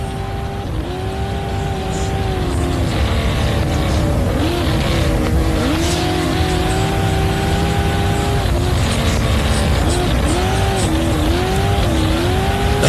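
An all-wheel drive racing truck roars around an off-road track at the Loveday 400, its engine loud and close with rising and falling pitch through gear changes, sustained throughout with no talk.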